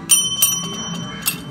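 Two small bells are struck for comparison, one bare and one coated with an anti-corrosion polymer of the kind applied to car wheel arches. A few bright, ringing dings sound close by, each decaying quickly over a faint background.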